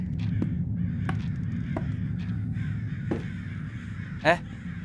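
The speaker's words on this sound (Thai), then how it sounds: "อีกา" A crow caws several times in a horror video game, Summer of '58, with short harsh calls spaced irregularly over a low ambient drone, the last caw closer and louder, while someone talks quietly.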